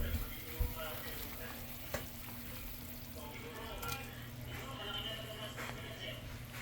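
Malunggay leaves and mushroom go into a pot of boiling soup, a soft steady bubbling and simmer with occasional light clinks of a utensil, fairly quiet, with voices faintly in the background.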